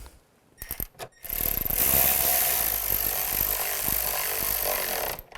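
A power screwdriver tightening screws on the rear window regulator of a 2005-15 Nissan Xterra. After a few brief clicks comes a loud, sustained whirring drive.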